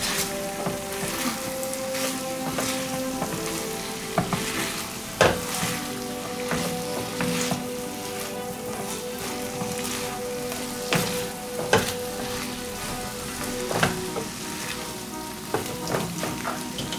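A thick Manchurian chicken sauce bubbles and sizzles steadily in a pan while it is stirred, with occasional sharp clicks of a utensil against the metal, and no voices over the constant close frying hiss.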